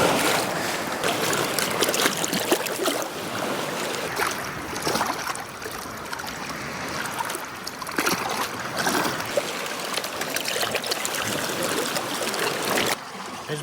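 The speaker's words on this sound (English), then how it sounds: "So just by swirling the bucket, it's kind of a way to concentrate some of it." Water sloshes and swirls in a bucket of Lake Superior beach sand, giving a continuous close churning wash with rhythmic surges and light trickling.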